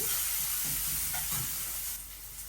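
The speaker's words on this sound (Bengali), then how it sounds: "এখন এই মাছটা রান্না করবো পেঁয়াজ দিয়ে দিচ্ছি" Onions dropped into hot oil in a frying pan, cooking fish with vegetables, give a steady broadband sizzle and hiss with a few stirring clatters, fairly loud and close, easing slightly toward the end.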